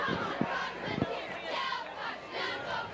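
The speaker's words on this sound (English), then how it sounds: "We're hearing some good crowd noise here" Crowd at a Milford Scarlet Hawks high school football home opener against Holliston, a roaring, surging mass of cheers and yells from the stands during a timeout, fairly distant and sustained throughout.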